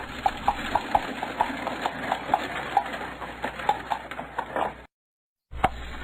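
Slow hoofbeats of water buffalo hauling carts along a street, an uneven clopping over a steady outdoor rumble, then a short silence and one more hoof strike.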